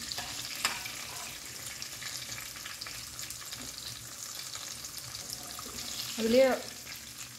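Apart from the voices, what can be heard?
frying brinjal in oil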